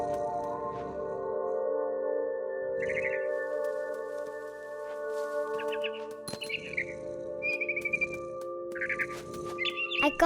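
A mother bird calls in What Remains of Edith Finch, with short, clear chirps repeating over a sustained tonal musical background.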